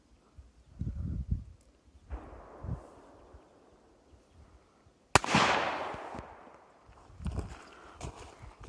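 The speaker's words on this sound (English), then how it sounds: "We're shooting factory MagTech 38 Special 158 grain lead semi-wad cutter ammo." Ruger Blackhawk .357 three-screw revolver firing MagTech .38 Special 158-grain lead semi-wadcutter rounds one-handed at 20 yards, a single sharp loud shot with a decaying outdoor echo among softer handling and rustling sounds.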